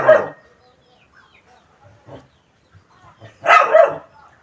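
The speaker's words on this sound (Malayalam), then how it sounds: "പട്ടി കിടന്ന് കുറയ്ക്കുകയാണ്" A dog barks in two loud bursts, one right at the start and another about three seconds later, with quiet gaps and faint background sounds between them.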